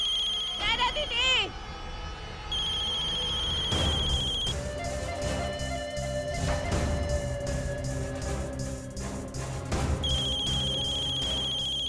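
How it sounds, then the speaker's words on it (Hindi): A mobile phone rings in bursts of a steady electronic tone, near and fairly loud, while several people talk and call out excitedly over and between the rings. "ये तो नैना दीदी के फोन की आवाज"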